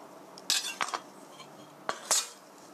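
A few scraping clinks of a utensil against a bowl while mixing garlic, onion, zucchini and meat for Korean zucchini pancakes, coming in irregular bursts with quiet gaps between them.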